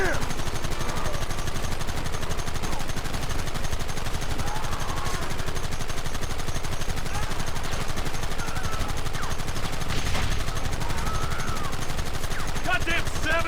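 A Red Dead Redemption shootout, with dense, continuous gunfire crackling throughout and shouting voices mixed into the chaotic din.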